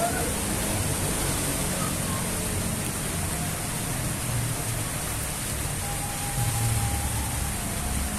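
Boiled noodles for a Minang-style mie dish being drained, with a steady, close rush of water pouring through them that runs without a break and covers everything else.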